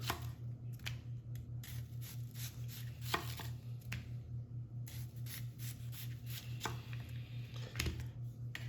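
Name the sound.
slicing yellow onions finely with a knife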